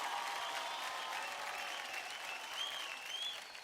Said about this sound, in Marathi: एकदा जोरदार टाळ्या होऊन जाऊ द्या स्वप्नील आणि त्याला साथ देणाऱ्या अक्षतासाठी